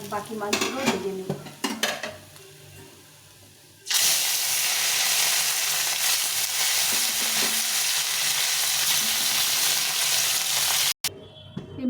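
Fish frying in a pan: a few clinks and stirring knocks at first, then a sudden loud, steady sizzle that holds for several seconds, cuts out briefly, and resumes.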